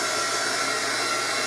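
Steady close roar of a heat gun drying a craft canvas, an unbroken airy hum through the short stretch with no voices.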